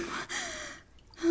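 A woman gasps and breathes heavily in a horror film, a sharp intake followed by a long, shaky exhale, then a quiet pause before another gasp rises near and loud at the end.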